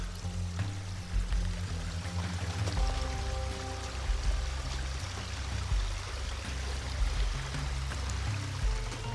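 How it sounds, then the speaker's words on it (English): A mountain stream in Glacier National Park flows steadily nearby, a continuous bright rushing and trickling wash with a low burbling undertone, no voices. "I have irregular streams that I am passing"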